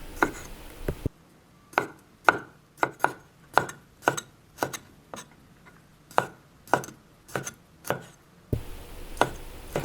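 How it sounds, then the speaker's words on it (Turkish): Black grapes chopped into small pieces with a knife on a board, a steady run of about a dozen crisp, close knocks at an even pace, with no talk over them. "Şöyle üzümleri de saplarından ayırdıktan sonra onları da küçük küçük kestim."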